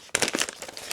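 Scissors on a ROCKTOL GEN-R 27-in-1 budget multitool snipping through paper, a crisp crinkling cut that starts abruptly and runs as a close, moderately loud rustle with no talk.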